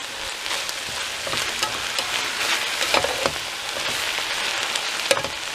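Deer chili ingredients being stirred in a pot, a steady sizzling, scraping wash with soft spoon knocks scattered through it, close and continuous with no talking.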